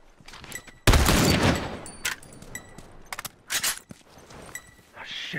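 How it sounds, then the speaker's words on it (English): Shotgun fire in The Last of Us, a loud blast followed by several sharper reports and scattered clatter in a game firefight, with some voice beneath. "Heads up, shotgun!"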